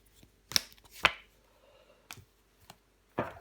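Tarot cards set down one at a time on a table, a few sharp, close slaps and taps spaced irregularly amid near silence.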